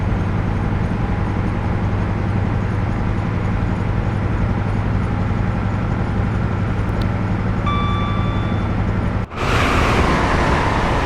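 HST train running on the Midland Main Line in snowy weather, a loud steady rumble and roar of wheels and engine heard from inside, with a sudden burst of louder noise late on.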